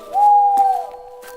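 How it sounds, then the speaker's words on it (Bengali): A single hooting night-bird call, like an owl, in a horror cartoon set on a rainy night near a cremation ground. It is one smooth, sustained tone of moderate loudness with faint background noise. "রাত পাখির আওয়াজ ভেসে আসছে"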